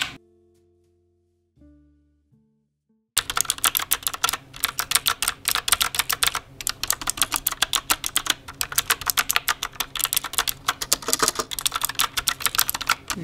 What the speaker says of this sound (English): when you hear the click, so you can kind of lightly tap